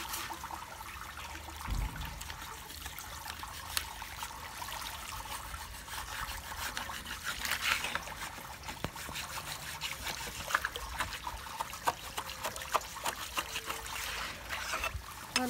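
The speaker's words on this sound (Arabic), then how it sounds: "فوالا دابا كنفزق هذا هكا بالماء وغادي نكب جافيل" Water splashing and trickling steadily while a chicken coop is rinsed out, a continuous close, wet pouring and dribbling wash with occasional sharper splashes.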